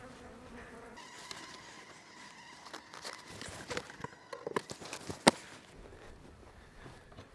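A bee trapped in a hive box buzzes in short, uneven bursts close by, mixed with clicks and knocks of handling that peak in a sharp thump near the end.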